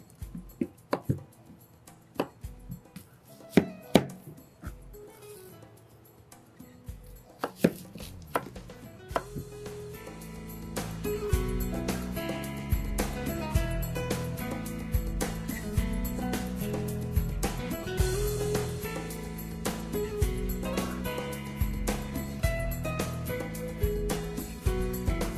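A knife chops zucchini on a board for vegetable kebabs: a few scattered cuts at first, then a steady, close run of quick crisp chops with no talk.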